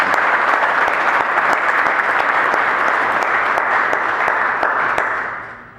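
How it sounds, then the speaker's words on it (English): Guests at a Navy captain's retirement celebration applaud the host: a dense, loud burst of many hands clapping with sharp individual claps, sustained for several seconds before fading. "Let's give applause for our"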